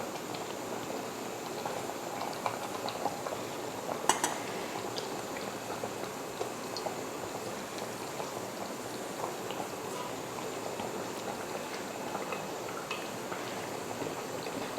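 Sankara fish curry (meen kulambu) bubbling steadily in a pot, a soft continuous simmer with dense small pops and gurgles, fairly faint and close, with no talking.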